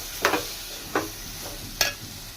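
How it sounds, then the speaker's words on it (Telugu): Potatoes being stirred into masala in a pan, three distinct scraping strokes of a spoon spaced about a second apart over a low sizzle. "ఈ ఉల్లగడ్డ మొత్తం ఇందులో వేసుకొని బాగా కలుపుకోవాలి ఫ్రెండ్స్."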